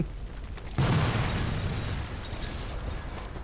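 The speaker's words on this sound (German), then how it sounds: "Der daneben explodiert gerade der Laster." A sudden heavy boom bursts in, followed by a long rumbling roar that slowly fades, as a truck explodes in the video game Sniper Elite 4.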